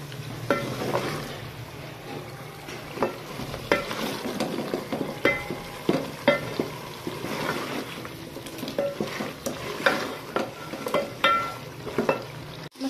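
Potatoes and mutton being fried and stirred in masala for aloo gosht, a steady close sizzle broken by repeated scrapes and clinks of a spoon against the pan, with no talking.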